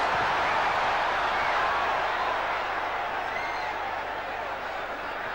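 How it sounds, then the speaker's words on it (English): A boxing arena crowd at a Hearns bout cheers and applauds in a broad, steady roar that holds throughout, slowly easing a little toward the end, with a ringside commentator talking over it. "The crowd loving it."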